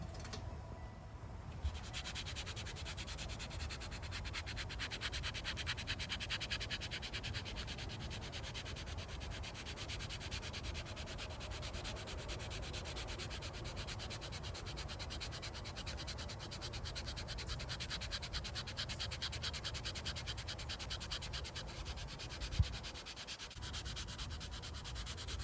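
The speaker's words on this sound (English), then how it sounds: "I want to try to, through sanding, reduce some of that material so that the scoop is more even" Steady, continuous sanding of a carved wooden spoon's scoop, a rough rubbing scrape repeating back and forth for the whole stretch at close range with no talking.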